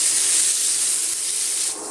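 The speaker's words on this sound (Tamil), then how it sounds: "இப்போ நம்ம தண்ணியெல்லாம் வடித்து எடுத்துகிட்டு வந்தால் கடலைப்பருப்பை சேர்த்துடலாம்" Drained chana dal goes into a hot tempering with curry leaves for sundal, setting off a loud, steady sizzling hiss that drops slightly right at the end.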